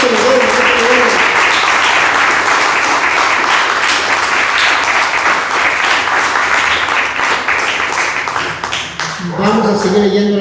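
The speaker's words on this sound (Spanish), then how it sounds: "Den un fuerte aplauso al Señor" A church congregation applauds strongly and steadily for about nine seconds, a dense wash of clapping that dips briefly before a voice speaks over the fading end.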